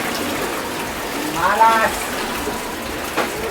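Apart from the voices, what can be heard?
flood water rushing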